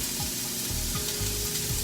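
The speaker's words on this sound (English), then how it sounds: "I'm going to add in the onions and the peppers" Onions and peppers frying in a skillet for stuffed peppers, giving a steady close sizzle with a few soft scrapes of stirring.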